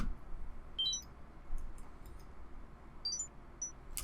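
A dry plucked synth pattern with no effects, built in FL Studio, plays as a few sparse, high, faint plinks and clicks over a quiet noise floor.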